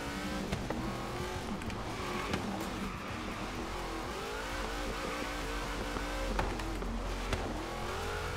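Twin Mill Hot Wheels car drifting on new tires in Forza Horizon 3, a loud, close engine roar revving up and down with faint tire squeal throughout.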